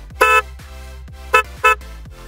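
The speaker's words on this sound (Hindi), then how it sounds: "इसलिए मैंने ये एयर हॉर्न लगवाया। इसका साउंड देख सुनिए" Three loud blasts from an air horn fitted on a Meteor 350 motorcycle, one longer then two short ones in quick succession, over a low steady engine rumble.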